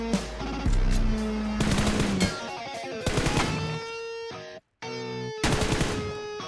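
Rapid bursts of automatic gunfire in a first-person shooter game, loud and close, with full-band cracks broken by a brief silent gap and backed by game music tones.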